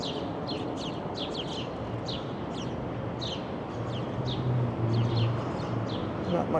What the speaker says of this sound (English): Not much happening here other than a lot of chirping birds.